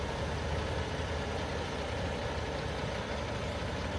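A Tomlinson Timpte hopper-bottom truck rig running as it is pulled out of a shop, a steady loud diesel engine rumble with broadband noise, unchanging over the few seconds.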